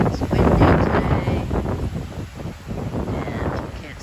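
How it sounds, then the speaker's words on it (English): Steady wind rumble buffets the microphone throughout, a low broadband roar with gusts, while a voice talks over it. "And it's windy today."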